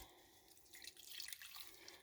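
Water trickles and drips as a piece of wool fabric dyed with acid dyes is gently squeezed out by hand, a soft run of splashes that builds and then holds, close by.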